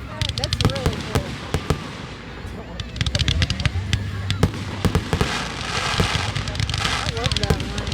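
Fourth of July fireworks at a family show burst in rapid, sharp cracks and pops, some close and loud, over a crackling rumble, while people talk throughout.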